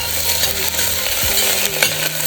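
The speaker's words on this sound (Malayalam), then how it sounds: "ഒരു കുറച്ച് ഗ്രീൻ പീസും കൂടി ചേർത്ത് കൊടുക്കുന്നുണ്ട്." Green peas tipped into a pan of sautéed onions for vegetable rice, a steady close sizzle of frying with a few scraping, clinking stirs over it.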